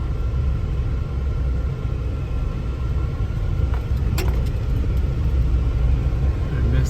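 A car drives along a gravel road through Daniel Boone National Forest near Red River Gorge, giving a steady, loud low rumble of engine and tires with faint crunching throughout and a few brief clicks near the end.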